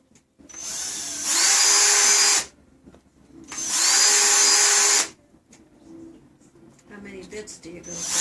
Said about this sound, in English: then I can just go through and drill all the rest of my holes